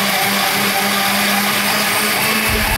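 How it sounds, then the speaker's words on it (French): An electric blender whirs steadily for nearly three seconds, blending cucumber with yogurt, coriander, lemon juice and olive oil into a baby's raita, a loud continuous motor drone with a slight pitch shift near the end. "Et ben on va mixer."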